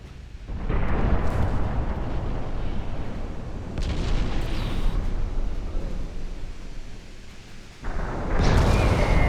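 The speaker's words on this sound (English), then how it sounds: "Torpedo hit. At least one torpedo hit." Naval gunfire and torpedo-hit explosions from the Ultimate Admiral Dreadnoughts warship game boom as a continuous, thundering barrage, with a fresh heavy burst near the end.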